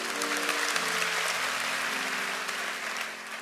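A church congregation claps together in praise, producing a steady wash of dense, moderately loud applause that holds for about three seconds and then starts to taper off.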